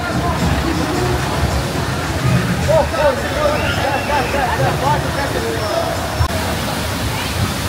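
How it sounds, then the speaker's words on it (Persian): A waterfall rushes down in a steady, loud roar that fills the whole stretch, with people talking and a crowd murmuring nearby. "آب خیلی خوشگل میاد پایین"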